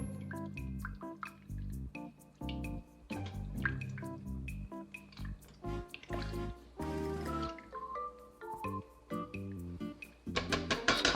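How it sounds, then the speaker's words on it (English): Liquid sizzles and bubbles in the bottom of an Instant Pot as chicken broth deglazes the pan after browning pork butt, with scattered drips and gurgles up close. "I'm going to deglaze the goodness at the bottom of that pan"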